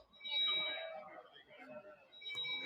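An electronic device beeps with a steady high-pitched tone at the start and again near the end, under a busy room full of people talking.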